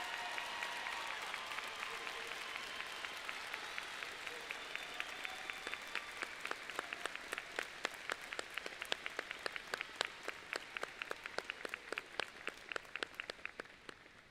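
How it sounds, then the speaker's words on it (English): A graduation audience at the Canyon Lake High School Class of 2025 ceremony gives sustained applause. It begins as a soft, rain-like patter and then resolves into distinct, evenly paced rhythmic claps that fade toward the end. "Let's give these young adults a round of applause"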